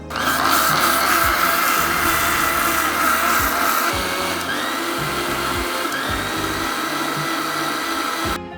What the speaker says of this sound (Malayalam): ഇപ്പം നമ്മൾ മൂന്ന് പ്രാവശ്യം മിക്സിയിലടിച്ചു